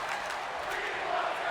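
Crowd noise at a UWS women's wrestling match between Azufre and Leon Rosa Reina, a steady, dense roar of chanting voices filling the arena with no pauses throughout.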